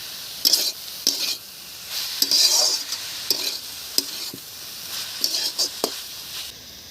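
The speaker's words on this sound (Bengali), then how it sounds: "মাখতে মাখতে আমি শাক ভাজায় চিনিটা দিয়ে দিই" Leafy greens stir-frying in a pan, with repeated spatula scrapes and clinks against the metal over a sizzling hiss in uneven bursts, close and fairly loud, with no speech.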